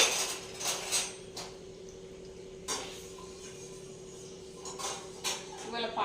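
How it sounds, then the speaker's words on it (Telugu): Pots, dishes and cutlery clink and clatter intermittently as already-washed kitchen vessels are cleaned again and stacked away at home, with a low steady hum underneath and faint speech now and then. "ఆల్రెడీ పొద్దున తోమిన గిన్నెల్ని మళ్ళీ క్లీన్ చేసి లోపల పెట్టడం"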